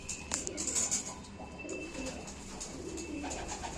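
Pigeons coo softly on a rooftop at dusk, a low burbling rise and fall with a few brief sharper chirps, faint and fairly distant in a quiet setting.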